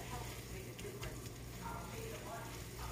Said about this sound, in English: We got the meat browning.